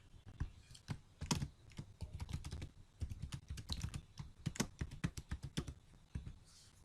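Fingers tapping out a password on a computer keyboard, a quick irregular patter of close, crisp keystrokes with short pauses between bursts and no talking.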